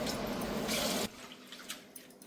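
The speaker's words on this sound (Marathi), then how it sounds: "दोन तीन पाण्याने धुवून घ्यायची" Water runs steadily from a tap for about a second, then stops, followed by soft sloshing and dripping as split toor dal lentils are rinsed.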